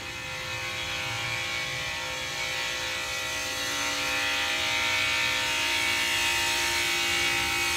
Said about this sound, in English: I'm passing by this pool machine,